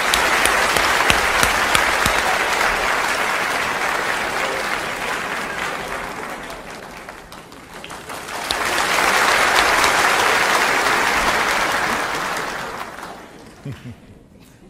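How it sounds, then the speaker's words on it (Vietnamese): An audience at a Vietnamese comedy stage show gives a long, loud round of applause welcoming a performer, swelling twice before tapering off with scattered claps at the end. "Xin quý vị một tràng pháo tay thật kêu giới thiệu Rick Murphy."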